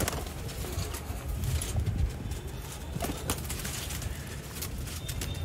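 Sialkoti pigeons coo softly amid a busy, rustling background of flapping and shuffling noise.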